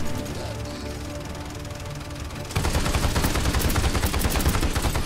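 Gunfire in the Paladins shooter game starts abruptly halfway through as a loud, rapid stream of automatic shots that continues without pause to the end, following quieter game ambience.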